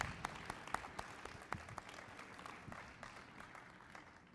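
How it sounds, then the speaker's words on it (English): Round of applause from an audience at a business pitch challenge, a faint, distant patter of many hands clapping steadily across the few seconds with no voice on top. "Let's give a round of applause."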